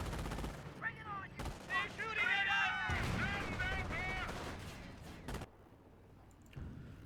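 Incoming gunfire and artillery in a Company of Heroes 1 real-time strategy battle: several sharp bangs and bursts of shooting mixed with game unit voices and chatter, the firing loud at times and trailing off toward the end.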